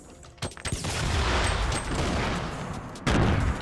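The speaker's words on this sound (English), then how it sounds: "who's throwing grenades" Grenade blasts and gunfire in a Fortnite Battle Royale match: a dense, loud barrage of shots and explosions rolls on without a break, with a heavy boom near the end.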